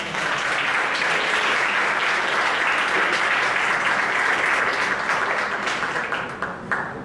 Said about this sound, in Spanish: Les pido su aplauso para recibirla.